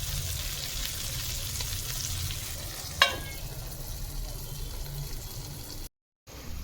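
Stuffed brinjals with dried shrimp cook in a covered pan, giving a steady close sizzle and bubbling with one sharp clack partway through and a brief dropout near the end.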